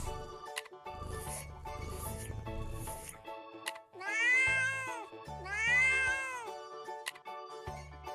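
A cartoon cat in a kids' drawing game gives several drawn-out, expressive meows, loud and close, with short musical jingles and clicks between them.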